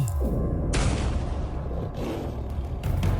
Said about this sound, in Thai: เสียงปืนดังขึ้น